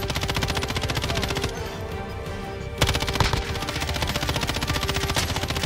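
Loud, rapid automatic gunfire from a shooter video game rattles in dense continuous bursts, breaking off briefly before the firing resumes.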